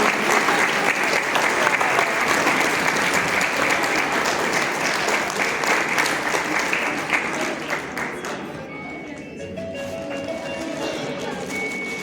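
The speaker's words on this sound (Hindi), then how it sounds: "शिवानी जी के लिए जोरदार तालियां" Sustained loud applause for Shivani fills a school function hall at Saraswati Balika Vidya Mandir, Shamli, continuous dense clapping that tapers off after about eight seconds into quieter room sound.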